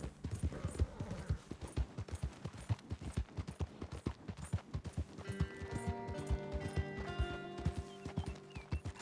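Horse hooves clopping at a brisk, steady gait in the open-world western game Red Dead Redemption 2, close and rhythmic, with a tonal ringing layer joining partway through.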